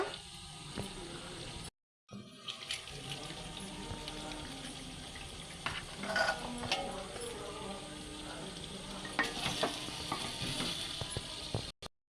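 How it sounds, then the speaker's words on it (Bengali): Khichuri is sautéed in a pan with chopped tomato and an egg, giving a soft, steady sizzle with faint stirring and scraping and a short silent break near the start. "টমেটো কুচি দিয়ে দেব আর একটা ডিম দিয়ে দেব, দিয়ে ভালো করে একটু কষে নেব।"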